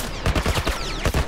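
Gunfire in The Last of Us comes as a quick run of rapid, close shots lasting just over a second, loud and without talking.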